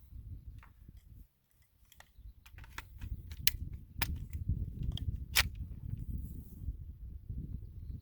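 Zastava ZPAP M70 AK-47 rifle fed from low-end magazines fires a handful of sharp, separate shots spaced irregularly over a steady low outdoor rumble, with a brief hush early on.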